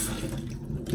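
Cold tap water runs steadily over freshly boiled eggs in a kitchen sink, a close, continuous splashing wash with no talking.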